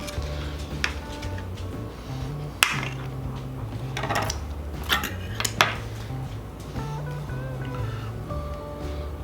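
Knife slicing Korean short ribs off the bone, with scattered clanks and scrapes of the blade against a board and plate over a steady low hum.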